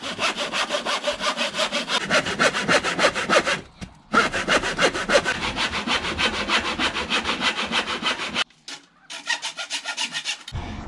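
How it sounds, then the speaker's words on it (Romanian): Hand-sawing through wooden sticks to build a homemade Christmas tree, a close, loud, steady back-and-forth rasp in quick regular strokes, stopping briefly twice before resuming, with no talking. "hai să le tăiem"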